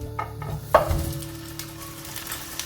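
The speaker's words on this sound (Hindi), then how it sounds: "और इसको हल्का सा हम फ्राई कर लेंगे पायों को।" Paya (goat or beef trotters) frying lightly in hot oil in a pot for a Lahori-style dish, a soft steady sizzle with a sharp clank of a utensil or pot early on, no talking.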